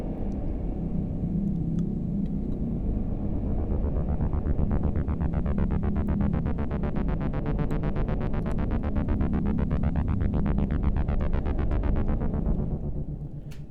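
A loud synth pad chopped into rapid rhythmic pulses, a fast throbbing gate that holds steady before fading out at the end.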